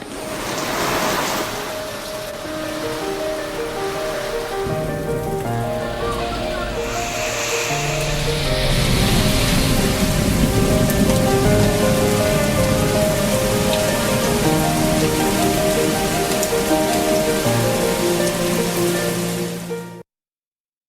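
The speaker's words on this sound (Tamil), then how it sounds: "சென்னை உட்பட தமிழகத்தின் பல்வேறு பகுதிகளில் மழை பெய்ததால் வெப்பம் தணிந்து இதமான சூழல் நிலவியது" Steady, loud rain pours across Chennai and other parts of Tamil Nadu, a continuous wash of falling water with sustained musical tones layered underneath for the full length.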